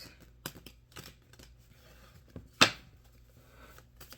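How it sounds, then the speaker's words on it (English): Deck of oracle cards being shuffled by hand, a few quick riffling snaps and soft rustles, one louder sharp flick partway through, close up with no talking. "I just love shuffling these cards."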